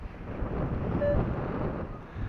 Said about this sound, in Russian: совсем наломал мне этот ветер, эти волны